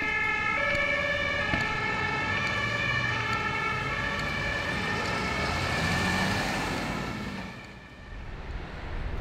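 An ambulance siren wails loudly as it passes along a street in Berlin's Wedding district near a hospital, its steady tones over traffic rumble before fading away near the end.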